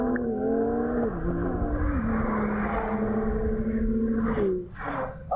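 BMW M2 and BMW 1M accelerating hard side by side in a drag race: a loud, close engine note climbs steadily through several gear changes, then drops away near the end.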